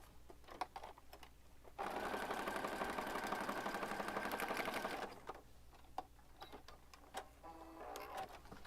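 A sewing machine stitching a flat Christmas ephemera craft piece runs in one steady, fast, whirring burst of about three seconds, close and moderately loud, with light handling taps before and after.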